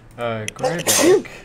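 A single sharp sneeze bursts out abruptly at close range amid brief speech, loud and over in under a second.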